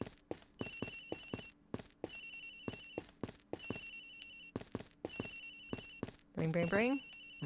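A cell phone rings in the Ace Attorney Investigations video game, a repeating electronic ringtone in regular bursts over game music and clicks, ending in a rising sweep of tones.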